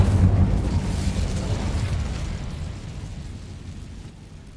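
A fire spell cast in the Hogwarts Legacy video game, giving a loud, low whooshing burst that starts strong and rumbles away over a few seconds, with no talking.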